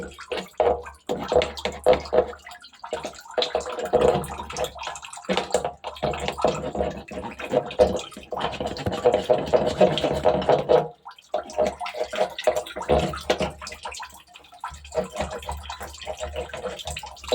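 Water sloshes and splashes in fits and starts while a clogged toilet and sink full of standing water are scrubbed clean, close and loud with short gaps between bursts.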